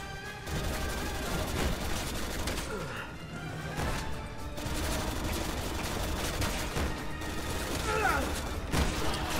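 Gunfire rattles in the Resident Evil 6 video game, with dense bursts of shots, impacts and mechanical clatter running continuously at moderate loudness amid in-game voices.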